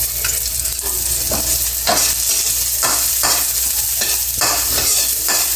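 Ginger stir-frying in a hot pan with onion for squid adobo, a loud steady sizzle broken by repeated scraping strokes of the spatula.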